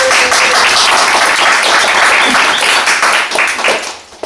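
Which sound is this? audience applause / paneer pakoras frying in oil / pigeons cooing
audience applause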